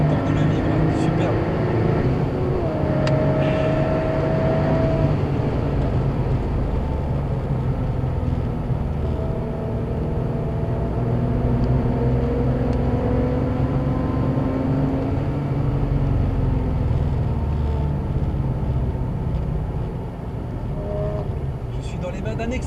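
A Porsche 997 sports car accelerates on a race track, its engine a steady, loud continuous roar with rising pitch sweeps through the gears, heard from inside with a voice speaking over it.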